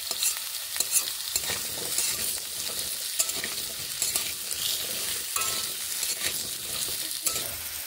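Pumpkin pieces frying in leftover oil in a kadai, stirred steadily with a spatula: continuous close sizzling broken by repeated scraping and clattering strokes, no talking.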